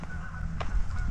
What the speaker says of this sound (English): Yeah, that is a bird.